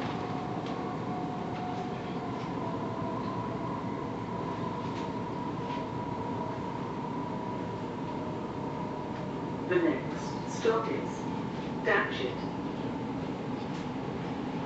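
Steady low rumble and hum inside a South Western Railway class 707 electric train running between Sunnymeads and Datchet, with a few brief clanks and squeaks near the end.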